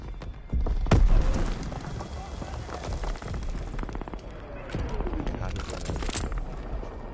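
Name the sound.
grenade explosion in video game Call of Duty: WWII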